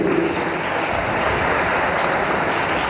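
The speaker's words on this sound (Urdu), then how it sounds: "تو میرے خیال میں اب ان کے لیے تالیاں بجنی چاہیے۔" A church congregation at an Urdu sermon on marriage applauds for a couple married fifty years, a dense, steady round of clapping throughout.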